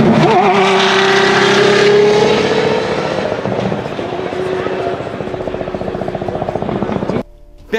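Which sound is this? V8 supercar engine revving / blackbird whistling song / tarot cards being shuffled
V8 supercar engine revving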